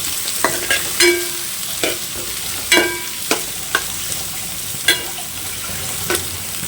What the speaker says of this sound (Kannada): ಸ್ವಲ್ಪ ಈರುಳ್ಳಿ ಚಂದ ಫ್ರೈ ಆಗಿದೆ ಅಂದರೆ ಸ್ವಲ್ಪ ಬ್ರೌನ್ ಕಲರ್ ಆದರೆ ಸಾಕು